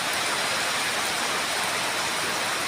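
Heavy rain pours down steadily in a dense, continuous hiss, close and loud with no letup, while pigeons are out flying in the downpour.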